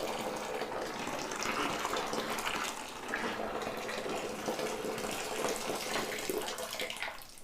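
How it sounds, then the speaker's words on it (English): A steady stream of boiling water pours from a kettle and splashes into a bucket for several seconds, a constant gushing flow with slight swells, no talking. "add a second kettle of boiling water"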